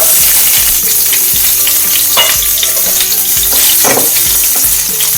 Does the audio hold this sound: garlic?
yes